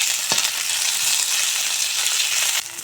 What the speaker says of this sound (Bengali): আদা রসুন দিয়ে আবারও একটু নেড়ে চেড়ে ভেজে নেব